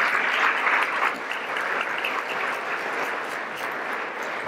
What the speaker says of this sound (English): So a round of applause for Bateman here